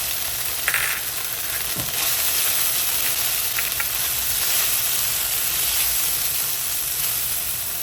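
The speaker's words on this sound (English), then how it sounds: "I'm going to drop my heat to medium, and I'm going to add some ginger paste here, some garlic paste" Ginger and garlic paste frying in a pan over medium heat, a steady close sizzle with a few light stirring clicks.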